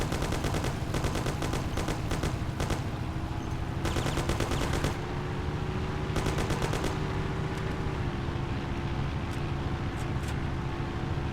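Gunfire in the video game Mafia: The City of Lost Heaven, with several bursts of rapid automatic shots over a steady engine drone, loud and close, with pauses between bursts.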